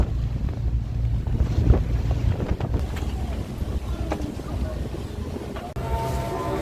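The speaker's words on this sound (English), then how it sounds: "I saw a speedboat passing by, so I take that boat back to the land" Speedboat on the sea near Koh Samed, Thailand, heard as a steady engine and hull rumble mixed with heavy wind buffeting and splashing waves, continuous and fairly loud.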